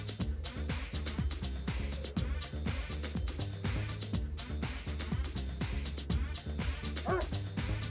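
Dogs barking and yipping in the Command & Conquer Remastered strategy game, a steady run of short barks and whimpers over a continuous game music and effects bed.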